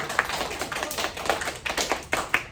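Children in a classroom clap their hands together, a scattered burst of sharp claps with a few louder distinct slaps standing out near the end, moderately close with no talk.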